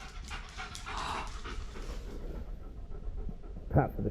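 Joey the dog pants rapidly and steadily close by in a workshop, with a short clatter or bump near the end.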